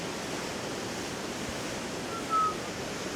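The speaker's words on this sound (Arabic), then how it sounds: "جدي شباب، المي قوي حيل" Strong rushing water from a fast river in Sweden makes a steady, dense roar throughout, with a brief faint tone near the end and no speech.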